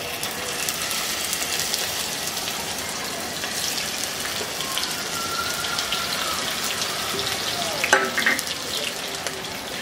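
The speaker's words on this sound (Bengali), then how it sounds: "আমি এখন চুলায় কিছু সরিষা তেল গরম করে এই মাছগুলাকে ভেজে নিব।" Rohu fish pieces rubbed with salt and turmeric fry in hot mustard oil with a steady, close sizzle, and a few light clinks come near the end.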